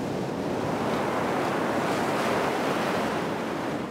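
Powerful shore break waves surge and crash continuously on an ocean beach in southwest France, a loud, dense roar of surf with gusting wind noise on the microphone and no voices.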